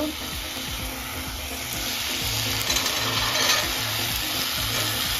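Chickpeas hit a hot oiled pan, loud steady sizzling and frying that builds slightly and stays close throughout, with light stirring under it.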